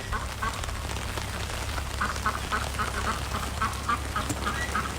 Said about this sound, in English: Pekin Ducks